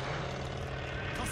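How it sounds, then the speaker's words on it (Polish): Propeller aircraft droning overhead in the Call of Duty Vanguard campaign, a steady low engine rumble filling a brief stretch with dense broadband noise. "To samolot!"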